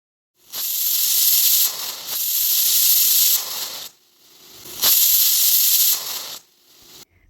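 A pressure cooker on the stove, cooking jackfruit with turmeric and salt, lets out two long, loud bursts of hissing steam with a whistling edge, separated by a brief quiet gap.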